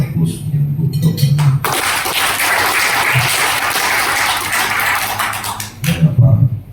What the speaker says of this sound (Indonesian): Oleh karena itu kita berikan aplaus untuk dokter.